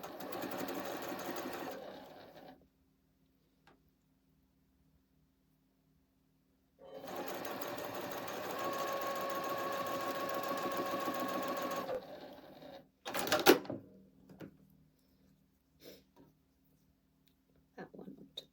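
A sewing machine stitches quilt rows together in two steady runs, the second longer, close and clear. Quiet pauses separate them, and brief handling noises follow.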